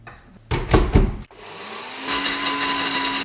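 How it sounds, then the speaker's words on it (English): A kitchen blender whirs through baked oats ingredients, chocolate protein powder and milk, starting with a few loud bumpy pulses before settling into a steady high-pitched spinning drone. "pop this in the blender"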